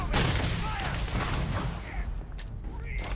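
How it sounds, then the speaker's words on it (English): Grenades go off in the video game Starfield as a loud, dense roar of explosions that rumbles throughout, then gives way to a few sharp game effects. "I think I walked into the grenades exploding radius, so that was fun."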